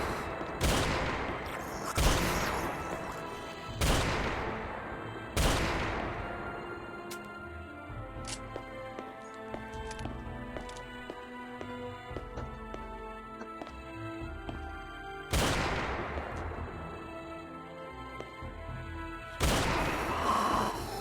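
Heavy gunfire in The Fog video game: loud booming shots at irregular intervals, each trailing off into a ringing tail, with layered metallic in-game sound filling the gaps between blasts.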